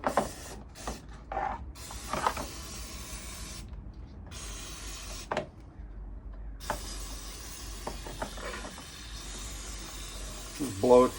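Compressed air from a nozzle hisses in short, intermittent bursts against a 1986 Honda CT110 motorcycle air filter, loud close blasts separated by pauses, with a voice speaking briefly.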